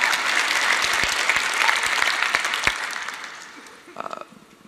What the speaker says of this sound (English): Give Brody a round of applause.